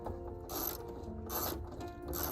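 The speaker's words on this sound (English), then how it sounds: "get your trusty socket wrench to take out the 4 screws in the DVD player" A socket wrench ratchets out screws from a car's DVD player, three close, loud bursts of rapid clicking, each about a quarter second long, separated by short pauses, with no talking.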